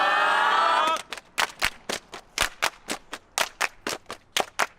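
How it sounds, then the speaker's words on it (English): Sharp, rhythmic hand claps from an audience at a youth rally, in quick repeated bursts that follow a brief sustained sung note. The claps sound close and loud, with no talking. "Let me hear you clap 3 times."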